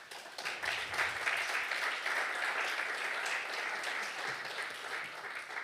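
Audience applause at a physics symposium, a steady, even wash of many hands clapping at moderate volume that holds for several seconds without talk.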